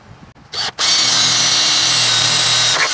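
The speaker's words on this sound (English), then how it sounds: "And then drill the hole." A power drill bores a hole for a rock light mount on a vehicle, starting with a short burst then running steadily at high speed, loud and close for over two seconds before winding down.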